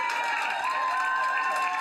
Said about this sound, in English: Staff at Cheshire Medical Center in Keene line the hallways with cheers and applause